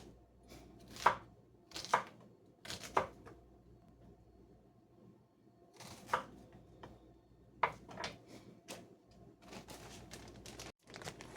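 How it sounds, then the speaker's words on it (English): Knife chopping onions on a cutting board, heard as short sharp chops in brief bursts of two or three strikes separated by pauses, close and clear with no talking. "I've got 8 packs or 8 onions chopped"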